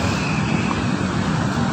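Steady, loud road traffic with cars rushing past continuously at close range, a broad unbroken roar with no talk over it.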